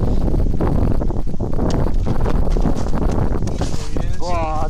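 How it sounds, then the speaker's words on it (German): Strong wind buffets the microphone outdoors, a constant loud rumbling roar that fills the whole clip, with a voice speaking faintly underneath. "Boah, der Wind, ey!"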